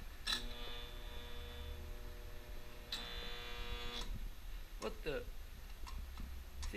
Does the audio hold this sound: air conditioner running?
yes